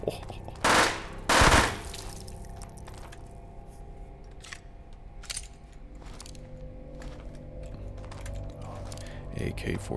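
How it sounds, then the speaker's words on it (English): An AK-47 fires in the video game Hidden Deep in short bursts and single shots, with sharp clicking and keyboard-like mechanical taps in between. "AK-47."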